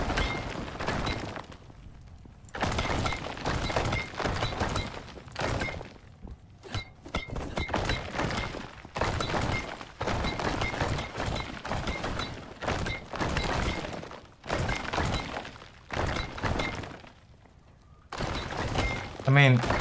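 Stone floors in the video game Icarus being smashed apart, a series of heavy thunks and cracking breaks in uneven bursts with brief pauses, fairly loud and close.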